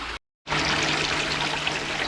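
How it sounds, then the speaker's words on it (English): Steady broadband rush of water pouring through a gold sluice trommel, fed by an 1100 pump, loud and continuous after a brief silent gap at the start. "I've got good water flow coming through the trommel."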